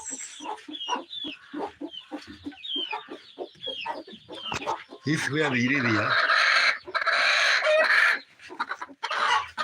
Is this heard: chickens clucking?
yes